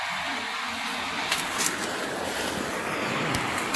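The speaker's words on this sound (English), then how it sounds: "I'm walking alongside the river." A river flows alongside a walking path in a village area, giving a continuous broadband rush of water mixed with some wind noise and a few faint brief clicks, with no talking.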